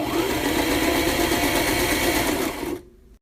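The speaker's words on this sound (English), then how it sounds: "For the sewing demo, I have 4 pieces of shag fur, and I'm not going to push the fur through the machine." Sailrite LSZ-1 industrial zigzag sewing machine stitching through pieces of shag fur, a fast steady mechanical whir running loud and close for a few seconds before abruptly stopping.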